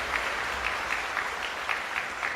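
A lecture-hall audience claps steadily in a sustained round of applause after an answer from a Buddhist monk, even and moderately loud throughout with no voices over it.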